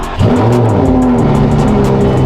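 A Lamborghini Gallardo sports car engine, repaired after a crash, cranks and catches, then settles into a loud, steady, throaty idle close by.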